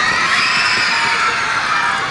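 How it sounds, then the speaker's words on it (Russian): A group of children at a children's show shout loudly together in a sustained, high-pitched cheer, filling the space with a continuous excited roar. "будете громко-громко кричать? А еще громче!"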